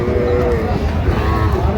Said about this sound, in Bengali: শাহিওয়ালের অরিজিনাল বকনা।